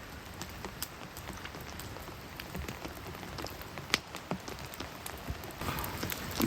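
Rain falling on a campsite in the mountains of the Pacific Northwest, a soft steady patter with scattered individual drops ticking close by, quiet and unbroken for several seconds.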